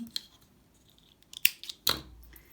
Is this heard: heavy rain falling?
no